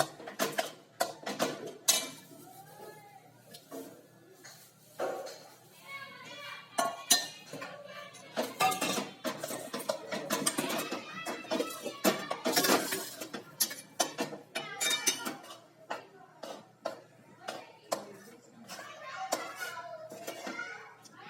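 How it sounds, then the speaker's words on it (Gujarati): Ground peanuts being stirred into a sweet mixture in a pot, repeated clinks and scrapes of a spoon against metal in an uneven rhythm, close and fairly distinct, with no voices. "ચાલો આપણે હવે તેમાં જે સિંગ વાટીને રાખેલી છે તે અંદર નાખીને બરાબર મિક્સ કરી લઈએ"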